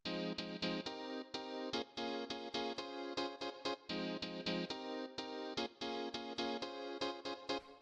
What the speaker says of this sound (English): Next sound we have here is the piano